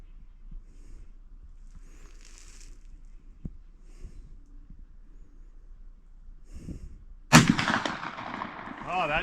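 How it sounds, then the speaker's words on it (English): A .50 caliber black powder Kentucky long rifle fires once, a single loud sharp blast late in the clip followed by a lingering, smoky-sounding rumble, after several seconds of quiet ambient noise. "I'm gonna go ahead and take a shot with the 50 cal. This is a Kentucky long rifle."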